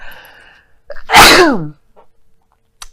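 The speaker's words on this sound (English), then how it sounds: "I don't know why I'm sneezing so much" A single loud, sharp sneeze bursts out after a faint breathy intake, followed by quiet.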